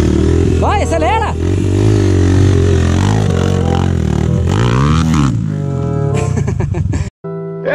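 A vehicle engine revs hard and climbs in pitch during a stormy night drive, loud and close. Engine noise continues throughout, and voices are heard over it.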